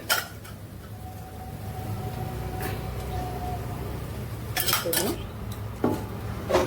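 Bitter gourd stir-fry with chilli powder tossed in a pan gives a few scattered metallic scrapes and clatters against a steady low hum, clustered near the end, with no talk.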